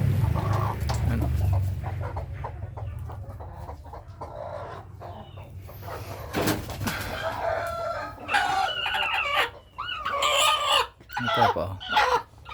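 Native chickens, some of them aggressive, clucking and crowing inside a coop on a small farm, several birds calling in bursts close by, with someone talking among them.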